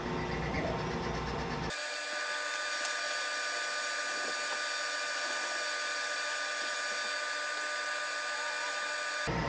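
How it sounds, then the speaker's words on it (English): A lathe takes a light cleanup cut on the outside of a VW engine case part, giving a steady, continuous machining whine with a sustained high tone after it starts, loud and close. "I'm going to make 1 cut on the outside just to clean it up."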